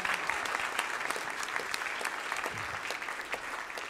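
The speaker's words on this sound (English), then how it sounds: "Spontaneous applause there" Applause from the audience at a humanitarian forum, dense and continuous clapping with sharp individual claps standing out, moderately distant and even in level.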